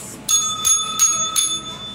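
A bell rings in several quick, bright strikes, each leaving a short ringing tone, close and clear over a faint background.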